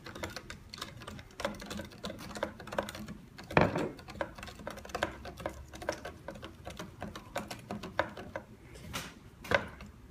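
A spoon stirs Kool-Aid stock solution in a measuring cup of water, with quick, continuous clinking and tapping that runs steadily throughout, with a couple of louder knocks, close and fairly quiet.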